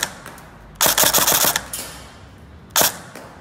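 An airsoft gun fitted with an Acetech Lighter tracer unit test-fires a close, sharp rapid burst of about six shots, followed by a single crisp shot a second later against a quiet background.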